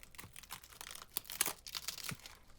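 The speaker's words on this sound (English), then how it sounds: "Sounds like he's rolling this burrito out of old paper plates." A burrito is rolled with dry, papery crinkling and crackling like old paper plates, heard as a close, quiet, irregular series of rustles and crunches with no speech.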